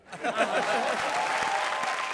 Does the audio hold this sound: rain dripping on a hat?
no